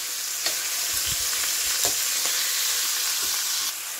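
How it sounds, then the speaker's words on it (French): Beef browning over high heat with garlic and onion for a boeuf bourguignon, a loud continuous sizzle with intermittent scraping stirs and soft knocks, stopping briefly near the end, no speech. "Je vais faire revenir à feu vif."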